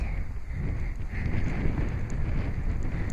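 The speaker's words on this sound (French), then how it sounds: "il y a beaucoup de vent" Strong wind buffets the microphone throughout a descent on a hike near Cheddar and Wells, a steady low rumbling roar with no talk.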